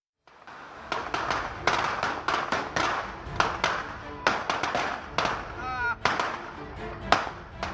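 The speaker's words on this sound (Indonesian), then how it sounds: "Aksi teror petasan dilakukan siang dan malam oleh caleg DPRD Kabupaten Subang, Ahmad Riza" Firecrackers go off in a rapid string of sharp cracks, daytime and nighttime, near a mosque minaret in Subang, with loud irregular pops packed closely together.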